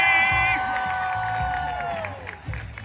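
A crowd at a 7th Heaven cast panel at a 90s fan convention in Daytona Beach, Florida, cheers and applauds loudly, with scattered whoops and clapping, while a bright tone glides downward.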